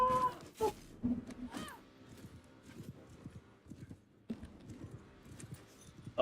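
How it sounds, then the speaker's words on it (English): A horse galloping in a Mount & Blade II: Bannerlord battle against the Khuzaits produces a close, rapid clip-clop of hooves that runs throughout, mixed with battle noise, a brief neigh-like cry near the start and sharp clashes. "Look at my turbo horse."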